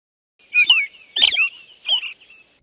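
A cartoon-style bird call from a children's animated game, three short chirpy warbling bursts in a row, clear and close with silence between and no talking.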